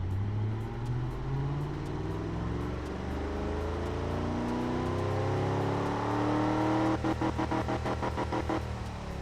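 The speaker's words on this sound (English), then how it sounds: "Gets us with a nice aggressive sounding idle" A simulated American-recreation engine in the Automation car-building game idles with an aggressive, loud and steady engine note, its pitch wavering and rising slightly, with a rapid pulsing chatter near the end and no talking.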